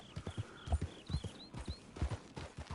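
Horse hooves clip-clopping in the Red Dead Redemption 2 video game, a steady, quick rhythmic trot of clear hoof strikes at moderate level with faint high tones above.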